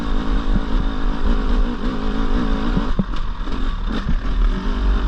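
Husqvarna 300 TE 2024 motorcycle engine idling and burbling at low revs in third gear while picking over rocky ground, a close, smooth, uneven throb with small rev blips and clatter.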